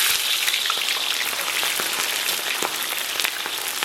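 Scallions, ginger and garlic dropped into hot, lightly smoking oil in a wok give off a steady, loud, crackling sizzle with scattered pops, alone and unbroken for several seconds.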